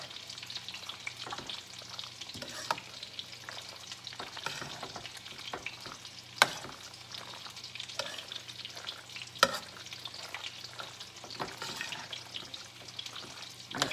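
Broccoli and chopped chicken pieces being stirred in a frying pan for a parmesan chicken Alfredo, a steady close sizzle broken by repeated scraping stir strokes and a few sharper clanks, with no talking.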